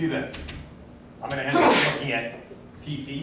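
During a university statistics lecture, someone in the room lets out a single sharp, breathy sneeze that bursts through the lecturer's ongoing speech partway through.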